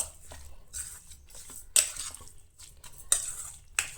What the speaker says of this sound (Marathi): आतां हे बरें आसलें तशें मिक्स करून घेया